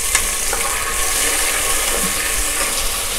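Whole spices and cumin seeds sizzling steadily in hot ghee, a continuous close frying hiss with faint crackles and no talk.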